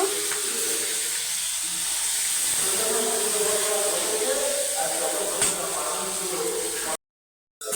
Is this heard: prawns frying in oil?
yes